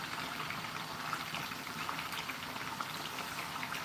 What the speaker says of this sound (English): that's what I'm using now to fry this wonderful fish steak